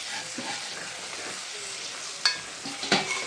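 Pav bhaji masala sizzles and fries steadily in a pan, a close, even hiss broken by a few sharp clinks of a spoon stirring near the end.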